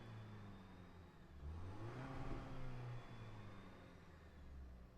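Toyota Tacoma TRD Off-Road engine revving while parked, a steady mid-pitched idle that swells into a rising, sweeping rev around the middle and then eases back down, with a faint whirring turbo spool above it.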